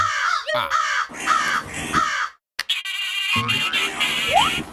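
Crows caw harshly in a 3D animated cartoon, with loud, close bursts of overlapping calls, a brief silent gap midway, and then more squawking cries.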